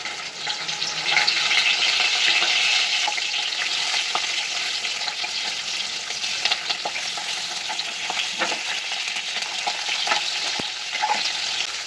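Minced keema with ginger-garlic paste and capsicum fries in oil in a pan, giving a steady, fairly loud sizzle with scattered clicks and scrapes of stirring throughout.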